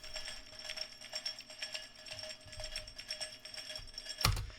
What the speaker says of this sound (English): Actually, it's this really nice shaker and it adds some really nice texture.